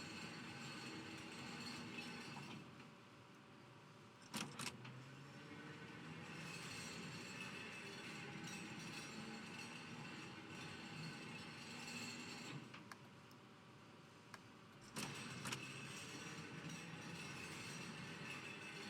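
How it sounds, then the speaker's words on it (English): A locomotive turntable turns on the Mittenwaldbahn route in Train Sim World 6, a steady mechanical rumble with metallic rail squeals and a few sharp clanks, continuous and moderately close, with no talk. "Unlock the turntable. And it'll spin round."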